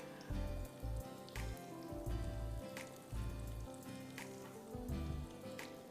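Second batch of coated chicken pieces frying in hot oil for Thai sweet chili chicken, a steady crackling sizzle with recurring bursts of louder bubbling, close and alone without talk.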